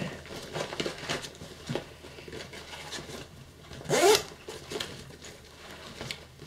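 A zipper on a camera bag pulled in one quick, close stroke near the middle, set against soft rustling and handling noise.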